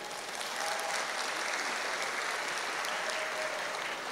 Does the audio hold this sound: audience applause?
yes